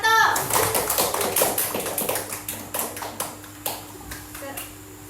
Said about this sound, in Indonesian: mari kita beri aplaus dulu untuk kelompok 1